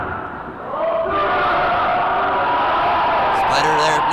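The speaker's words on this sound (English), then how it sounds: "the crowd here saying, chanting 1, 2, 3" A wrestling crowd roars and chants in a sustained, loud swell of many voices that fills the arena and builds steadily, with a brief dip near the start.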